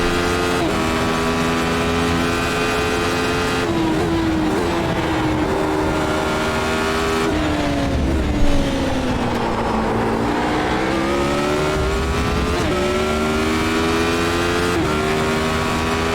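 A Radical SR8 race car in the iRacing game at Road Atlanta roars steadily for the whole stretch, its engine pitch rising and falling through gear changes and braking, loud and continuous with no talk.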